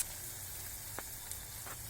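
Cut eggplant drops into hot oil seasoned with mustard seeds, whole cumin and asafoetida, giving a faint, steady sizzle with a couple of small pops.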